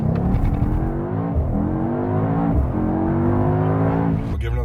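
A 630 hp Mercedes-Benz GT63S accelerates hard from a race start, its engine climbing through rising sweeps with gear changes, loud from inside the cabin, and a voice is briefly heard over it.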